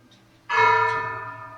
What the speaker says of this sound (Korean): 저 종소리가 들리면 잠시 꿇어앉았다가 그럼 저걸 경세라고 해요